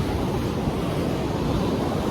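A big ocean wave rolls in to shore, a loud, steady broadband wash of surf mixed with wind noise, close and continuous, with no one talking.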